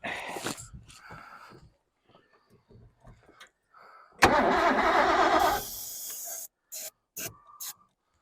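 An early Ford Bronco fitted with a used carburetor is cranked on a very cold day: a loud burst of engine cranking mid-clip, followed by a few short sputtering bursts, with quieter clunks and rustles before.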